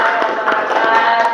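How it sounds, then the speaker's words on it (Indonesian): A short burst of classroom clapping greets a student group after its class presentation, close and fairly loud, a brief patter of hands with no talk over it. "tepuk tangan untuk kelompok 1"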